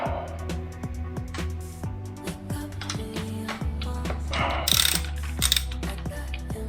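A 10mm ratchet loosens a bolt on the lower leg of a Fox 38 suspension fork, giving a run of quick, close, rhythmic pawl clicks that speed up and bunch together toward the end.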